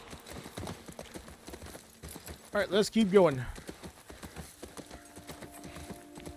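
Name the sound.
horse hooves clip-clopping in video game The Last of Us Part I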